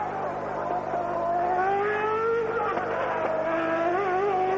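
A Formula 1 race car drives a qualifying lap at Monza in 1994. Its loud, high engine note holds steady and then climbs in pitch, with faint commentary voices underneath.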